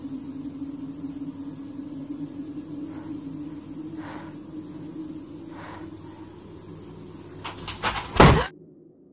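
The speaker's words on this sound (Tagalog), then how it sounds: "bigla na lang sumara ang pintuan" A door slamming shut in a creepy setting: a quiet steady hum with faint knocks, then a sudden loud clattering slam near the end before silence.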